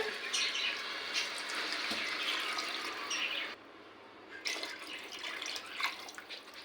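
Water trickles and splashes into chicken curry being made for biryani. The pouring is faint and patchy, pauses briefly partway, then returns in a few soft splashes.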